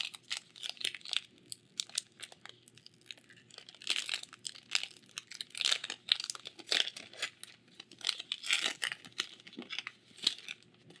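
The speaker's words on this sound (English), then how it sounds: "Today we're cracking open Phyrexia LB1." A Magic: The Gathering Phyrexia: All Will Be One booster pack is torn open, its foil wrapper crinkling and ripping in close, busy bursts for about eleven seconds with no voices.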